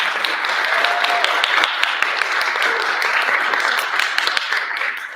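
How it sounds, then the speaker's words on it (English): An audience at a cultural center's annual awards gala applauds steadily, a full crowd clapping for several seconds with a few sharper individual claps standing out. "Let's give them a round of applause."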